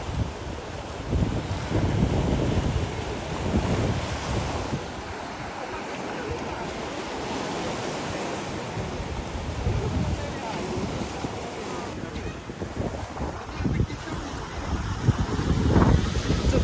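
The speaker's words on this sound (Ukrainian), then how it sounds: "Море бушує вже другий день." Stormy sea at the Odesa seaside, with surf and gusting wind roaring steadily and loudly throughout, the wind buffeting close to the microphone.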